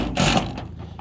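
Over about a second, a power driver whirs briefly as an old tech screw is driven into a deck, a short mechanical burst that then trails off.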